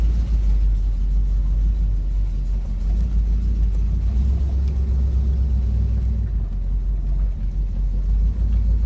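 A 1974 Plymouth Satellite fitted with a Holley carburetor rumbles steadily while driving, a loud, continuous low engine drone heard from inside the car with no talk.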